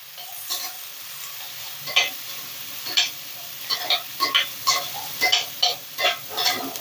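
Peas and soaked soya chunks fry in a pan, with a low steady sizzle broken by about a dozen rhythmic scraping stirs of a spatula. The sound is close and clear, with no voices.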